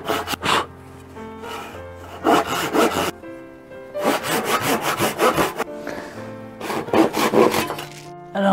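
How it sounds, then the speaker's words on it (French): A Japanese hand saw cuts through wood in steady back-and-forth strokes, loud and close, pausing briefly between bursts of rasping. "ça sera l'occasion pour moi de tester la scie japonaise, là."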